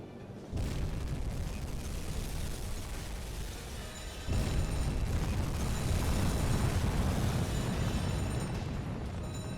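Torpedoes strike a tanker in the submarine game UBOAT, deep rumbling explosions rolling out one after another, the second blast louder and heavier, leaving a sustained boomy roar.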